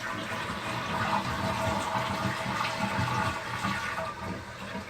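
A toilet tank flushes and refills, with water gushing and rushing steadily at close range for several seconds without pause.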